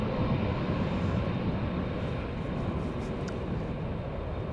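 A jet airliner landing at Amsterdam Schiphol Airport on a breezy day, its engines making a broad, steady roar from a distance, with wind rumbling throughout.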